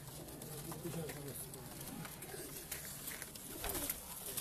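Original Lakha pigeons coo faintly in the background while people talk nearby, and the whole scene stays quiet.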